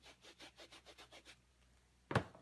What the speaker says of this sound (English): I'm going to wash off my stamp using my Stampin' Scrub.